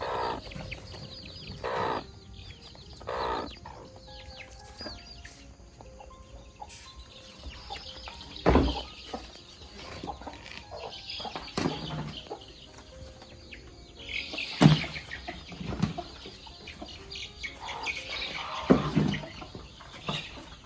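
Chickens in a coop at evening give scattered clucks and a few sharper squawks, near and far, with an occasional crow, over a steady low background hum.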